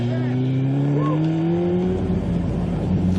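A motorcycle ridden upright at speed around a racetrack, its engine holding a steady, rising drone close by with a brief pitch shift midway, loud and continuous throughout.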